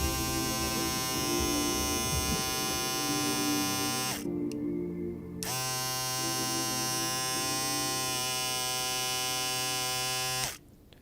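BaBylissPRO FOILFX02 and FOILFX01 battery-powered foil shavers running, a steady close electric buzz that stops briefly, starts again, then cuts off near the end.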